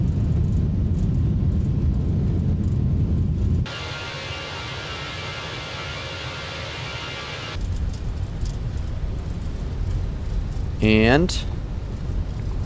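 Simulated airliner engines spooling up for a takeoff roll in the VATSIM flight simulator, a steady loud broadband roar that swells midway through, with a voice speaking over it and a short tonal chime near the end.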